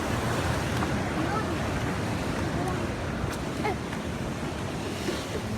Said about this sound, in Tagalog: matamaan tayo ng malaking alon